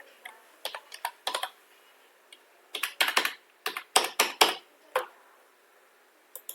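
Keys on a computer keyboard are tapped in quick irregular bursts while a voter ID number is entered into an online voter list search, with close, crisp clicks and short pauses between groups.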